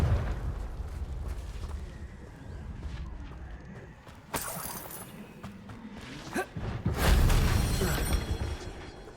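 Confringo blasting spell in Hogwarts Legacy, low rumbling explosive bursts with crackling debris over a steady game background, with a heavier boom near the end, moderately loud.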